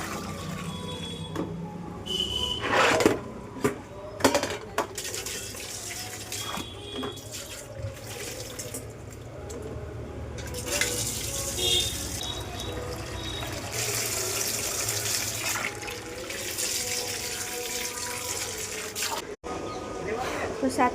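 Water runs from a tap into a filling container at home, a continuous splashing gush under scattered clatter and intermittent talk, steady and moderately close throughout.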